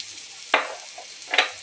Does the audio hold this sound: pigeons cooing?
no